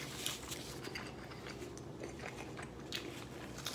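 Biting and chewing into an adobada pork taco topped with guacamole, cilantro and onion, close and steady, with soft crunchy mouth sounds repeating over a low background hum.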